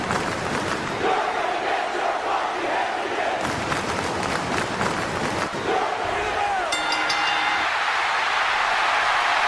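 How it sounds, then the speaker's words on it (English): A wrestling arena crowd at a Bryan Danielson versus Jon Moxley match roars and chants in rhythmic bursts with loud clapping, while a commentator talks over the noise. "The crowd firmly behind Bryan Danielson here tonight."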